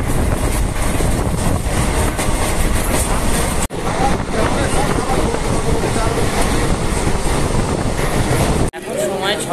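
Passenger train running late near Bhubaneswar, heard from inside as steady loud rail rumble and clatter with brief drops, under faint talk.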